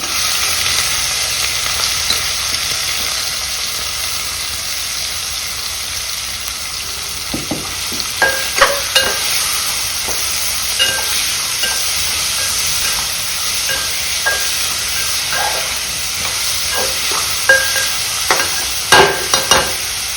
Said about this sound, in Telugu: ఇప్పుడు ఉల్లిపాయ, పచ్చిమిర్చి, కరివేపాకు వేసేస్తున్నాను.